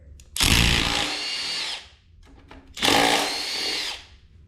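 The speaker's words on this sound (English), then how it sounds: "So I'm gonna take my small impact, pull these two old ones out here." A small impact wrench removes two old bolts during an engine build on a J32 stroker, giving two loud, close bursts of hammering whir with a short pause between them.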